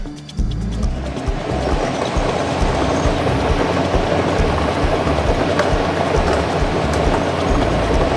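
A Lotto drawing machine tumbles its numbered balls in drums, a dense continuous rattling clatter that starts abruptly and churns steadily at close range.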